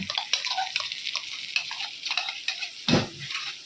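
A spoon stirs dahi katla, fish in yogurt curry, frying in a pan; soft scraping and bubbling with a louder scrape near the end, brief and close.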